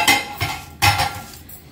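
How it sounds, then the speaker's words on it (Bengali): Knife chopping onions on a board in a home kitchen, a few sharp, close cuts in quick succession with short pauses between them. "খুব সুন্দর পেঁয়াজ কাটাচ্ছে দুটো।"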